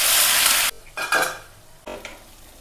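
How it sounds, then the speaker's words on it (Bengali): Frying in a pan with dried red chillies while cooking chicken rezala. A loud, hissing sizzle cuts off abruptly, then a few short stirring scrapes and clatters follow, with no talking. "এখন এর মধ্যে আমি পেঁয়াজের পেস্টটা দিয়ে দেব।"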